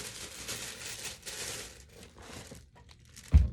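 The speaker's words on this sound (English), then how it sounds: "Going with another piece of tissue paper." Tissue paper crinkling and rustling as it is handled while a gift basket is assembled, steady soft crackling in bursts, ending with a louder thump, close up with no talk.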